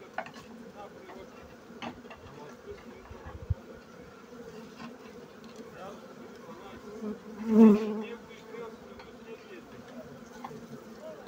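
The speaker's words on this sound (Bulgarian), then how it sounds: "Има ужасно много пчела, вече 3 рамки пил." Honey bees buzz steadily throughout an autumn hive inspection checking brood and honey stores, a dense close hum that swells briefly louder partway through, with occasional clicks of frames being handled.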